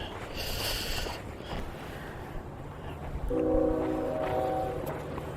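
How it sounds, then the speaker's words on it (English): A distant train horn sounds in a few sustained tones over steady low rumble and outdoor background noise in the pine woods between Riverhead and Speonk, Long Island. "I guess that sounds like the train"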